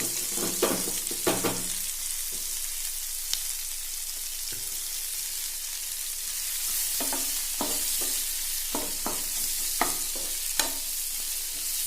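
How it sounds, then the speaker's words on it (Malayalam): Onion, ginger and green chili sauté in a pan for an egg roast, a constant crackling sizzle broken by bursts of spoon scraping and stirring, close by and with no talk. "ഈ സമയത്ത് നമുക്ക് ഇഞ്ചി, പച്ചമുളക്, സവോള ഇതെല്ലാം അങ്ങോട്ട് ചേർത്ത് കൊടുക്കാം."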